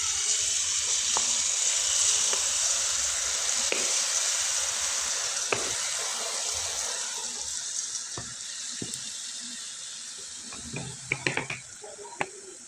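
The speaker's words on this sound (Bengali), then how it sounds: "ভেজে দেখিয়ে দিচ্ছি।" Shredded potato for jhuri bhaja fries in hot oil, giving a continuous bubbling sizzle that slowly fades, with scattered clicks and scrapes of stirring near the end.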